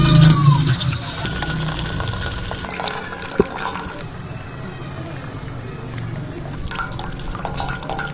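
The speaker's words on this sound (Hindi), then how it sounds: "और यहाँ पर हमारी यखनी भी जबरदस्त तैयार हो चुकी है तो इसे भी छान लेंगे।" Meat broth (yakhni) for Peshawari rice being strained, a continuous loud pour and trickle of liquid with dripping, steady from start to finish.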